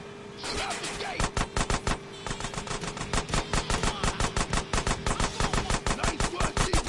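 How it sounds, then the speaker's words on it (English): Rapid automatic gunfire in GTA San Andreas shoots out a sewer gate, loud and close, a steady rattling stream of sharp shots that runs almost the whole time after a brief lull, with no speech over it. "Shoot out the gate."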